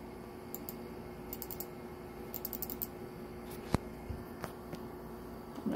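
Computer keyboard typing at an office desk, a sparse run of faint, scattered key clicks with a few sharper taps, heard close and alone over quiet room hum.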